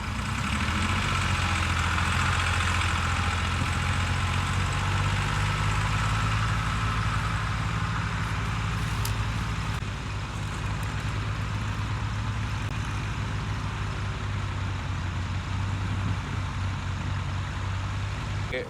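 A heavy tractor engine idles steadily with a deep, low rumble throughout, continuous and fairly close, with faint talk in the background.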